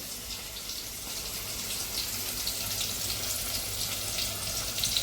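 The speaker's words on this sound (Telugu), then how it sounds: "ఆ తర్వాత నేను ఇక్కడ ఆనియన్, క్యారెట్ 2 వేసేసి జీరా వేసేస్తాను" Onion, carrot and cumin fry in a pan with a steady, even hiss of sizzling oil, quiet and close, continuing without pause and with no voices.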